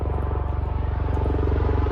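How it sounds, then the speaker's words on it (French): A helicopter flies over the Cirque de Cilaos on Réunion, its rotor giving a steady, fast, throbbing chop with a low engine drone, fairly loud and sustained without talk. "C'est un hélicoptère, Ryu."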